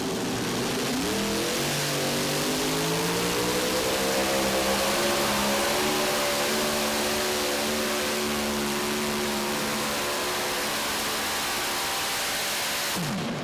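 A pulling tractor's engine revs hard and loud at a tractor pull in Bowling Green, a steady roaring drone climbing in pitch as it pulls down the track, then cutting off abruptly near the end.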